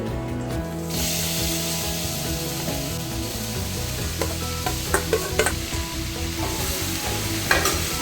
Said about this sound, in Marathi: एकदम मंद आचेवर आपल्याला हे व्यवस्थित भाजून घ्यायचे